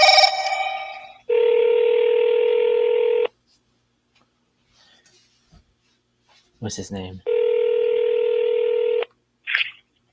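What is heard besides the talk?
telephone dialing a number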